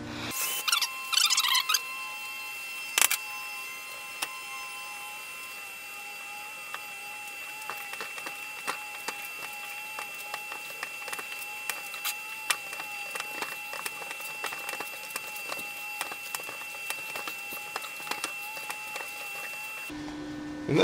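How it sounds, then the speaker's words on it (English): A hand tap cutting 1/8 inch NPT threads into a drilled collar for a grease fitting on an off-road trailer hitch, giving a long run of squeaky, ticking clicks with a faint whine and no talk. "we're gonna drill out this collar and tap it so that we can put our grease fitting in later"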